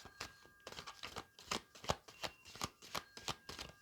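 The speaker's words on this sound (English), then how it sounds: "The cards don't want to shuffle." A deck of tarot cards being shuffled by hand, a rapid series of soft riffling, flapping strokes, close and quiet.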